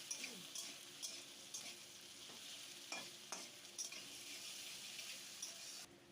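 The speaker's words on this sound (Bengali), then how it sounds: "এইভাবে একটু ভেজে নেবো" Potatoes and onions fry in a pan and are stirred, giving a soft, continuous sizzle broken by occasional scraping strokes, heard up close and fairly quiet with no talking.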